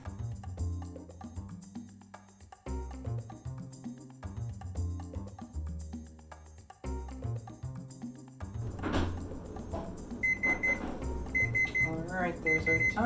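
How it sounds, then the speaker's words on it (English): A kitchen timer beeps several times in short, high, evenly spaced chirps at the stove, under background music. "Alright, there's our timer."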